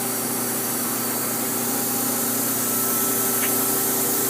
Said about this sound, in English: Coolant pump.